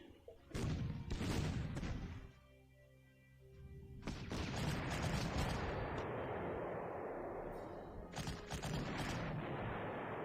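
A tank attacks an artillery unit in the wargame Panzer Corps: loud, dense bursts of gunfire and booming artillery crash in three waves, with a brief quieter lull between the first two.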